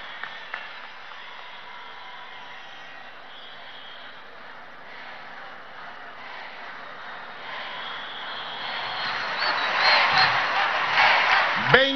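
A large crowd of teachers at a rally in an arena with Nicolás Maduro applauds and cheers. The noise is a steady broad roar that swells louder toward the end and peaks in a burst of shouts.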